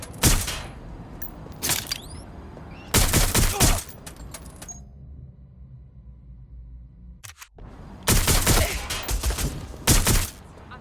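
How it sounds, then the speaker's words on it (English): Gunfire in Watch Dogs: Legion comes in loud, sharp volleys of rapid shots separated by quieter gaps, with one near-silent stretch before the shooting resumes. "I'm under fire here!"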